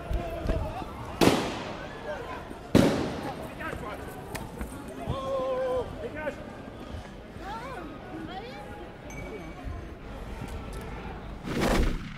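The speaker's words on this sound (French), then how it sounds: "il y a du keuf derrière qui tire" Police flashball launchers firing at protesters during a street demonstration against a National Front congress in Tours: several sharp, loud bangs stand out among crowd shouting and chanting, with two strong reports early and another near the end.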